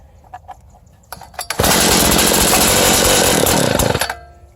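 A Craftsman cultivator's small gas engine, primed with choke and starting fluid, sputters through a few pulls, then catches and runs loud and steady for a couple of seconds before cutting back.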